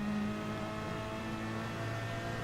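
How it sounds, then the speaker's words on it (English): A Lamborghini race car spins its wheels at a race start, a steady loud engine drone with a high whining tone holding throughout, no voices. "Lamborghini's wheel spins"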